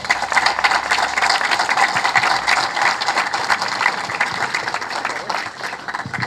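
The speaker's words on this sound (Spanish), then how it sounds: "Me parece que aplaudieron con pocas ganas" Audience at a community assembly applauding, dense sustained clapping from many hands that continues evenly throughout and eases slightly near the end.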